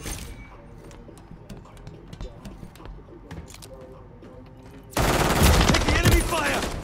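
Enemy gunfire in a Call of Duty video game: sparse scattered shots and clicks under game speech and chatter, then a sudden loud sustained burst of rapid automatic fire near the end.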